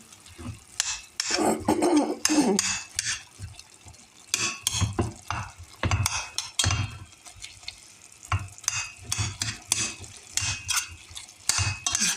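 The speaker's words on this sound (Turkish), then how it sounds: "burada kıymamı soğanla beraber kavuruyorum" Minced meat frying with onions in a pan, a steady sizzle broken by repeated scraping stirs and occasional clinks of the utensil, with a few coughs partway through.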